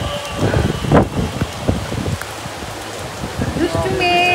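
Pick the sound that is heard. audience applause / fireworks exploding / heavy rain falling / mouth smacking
heavy rain falling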